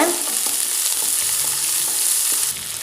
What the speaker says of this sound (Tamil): நம்ம வெங்காயத்தை சேர்த்துடலாம் நல்லா வதக்கிக்கோங்க